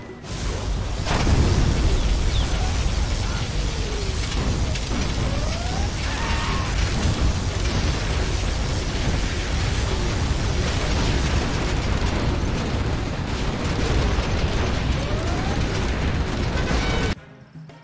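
Rumbling particle cannon explosions from the video game Command & Conquer: Generals roll on continuously, dense and booming, with crackling bursts layered over a heavy low roar.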